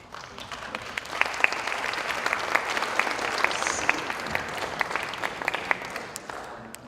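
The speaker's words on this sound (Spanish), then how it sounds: "también un fuerte aplauso para ella, por favor." An audience applauds an actress at a film event in a cultural centre, a steady wash of clapping with sharper individual claps standing out near the front.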